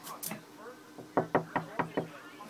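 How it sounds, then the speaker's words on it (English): Five sharp knocks on a door on Halloween, evenly spaced and close, after a voice speaks. "Okay, I'm gonna knock on the door."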